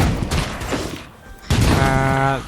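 Loud grenade blasts and rumbling bursts in the video game State of Decay 2, Lethal difficulty, with a heavy boom partway through followed by a ringing electronic tone.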